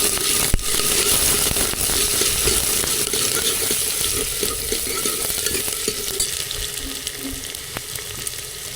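Tap water runs steadily into a pan or sink while moong and masoor dal are washed in a home kitchen, a continuous close rushing hiss with light splashing and occasional clinks, and no talking.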